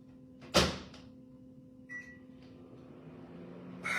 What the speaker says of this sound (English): I'm gonna put it back in the microwave for another 5 minutes